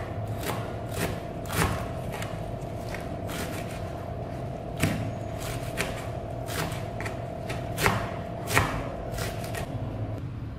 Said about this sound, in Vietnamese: Đầu tiên, đối với phần hành tím mình sẽ băm nhỏ, hành lá và rau húng thì các bạn rửa sạch sau đấy thái nhỏ ra.